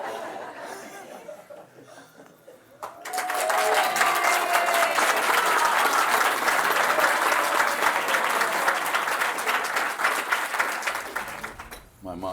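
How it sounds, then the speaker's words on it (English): A festival audience bursts into loud applause mixed with laughter after a quiet, talky opening, sustained for about nine seconds before dropping away as talk resumes. "My mom's getting applause"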